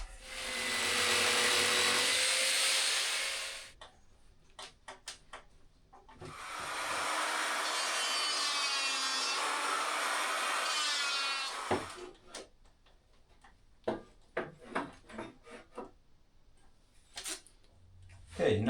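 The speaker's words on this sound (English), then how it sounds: "I'm gonna finish this with the jigsaw." A jigsaw cuts wood for replacement steps, running in two long steady bursts of close, loud buzzing, followed by clattering knocks and handling noises.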